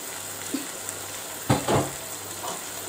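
Paneer going into a pan of vegetable curry, giving a quiet background sizzle with two short louder bursts of frying and stirring partway through.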